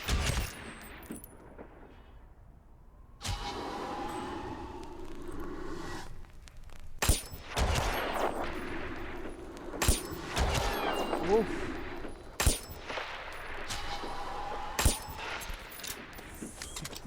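Sniper rifle shots in the stealth video game Hitman ring out as several sharp, loud cracks spaced seconds apart, over a low ambient game background with brief tonal in-game sounds between them.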